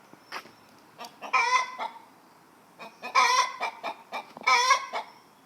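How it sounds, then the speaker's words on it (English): Backyard chickens near a garage coop cluck and squawk in repeated short bursts, several louder drawn-out calls standing out among quick clucks, close by with no talk. "Near my garage is the chicken area, but they like to come out."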